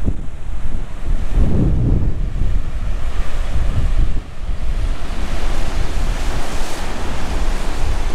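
Waves breaking on a large beach at Aberaeron on the Welsh coast on a windy day, a continuous roar of surf mixed with heavy wind buffeting the microphone, with no voices.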